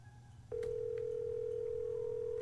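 A telephone in a Nancy Drew game, The White Wolf of Icicle Creek, starts with a short dialing blip and then gives one sustained steady tone that holds, clear and close, with no talk.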